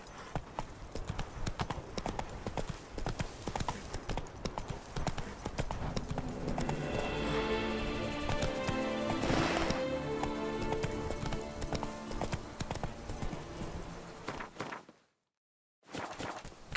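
Roach, a horse in the Witcher 3 game, clip-clops steadily along, with a neigh partway through. Hoofbeats run continuous and fairly loud before cutting briefly to silence near the end.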